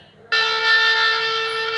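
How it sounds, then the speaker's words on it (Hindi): Conch shell blast played by a Bhagavad Gita reading device on startup, a single sustained bright horn-like tone starting abruptly and holding steady, loud and alone. "शंख की ध्वनि हुई, इसका मतलब ये हमारा स्टार्ट हो गया।"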